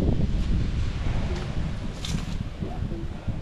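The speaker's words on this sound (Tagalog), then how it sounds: "Ang lakas ng hangin, grabe." Strong wind gusting across a beach campsite at Lobo, Batangas, a dense roaring rush buffeting the microphone throughout, with faint voices and small clattering sounds underneath.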